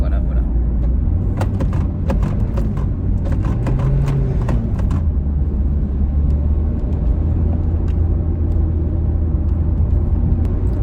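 A car engine rumbles steadily while being driven in third gear on the way to the stables, a constant low drone close by with scattered clicks and knocks, while a person talks over it.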